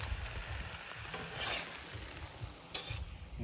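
Soft crackling sizzle of potatoes cooking in a pan, faint and steady with a few sharper clinks and scrapes near the end, no voices.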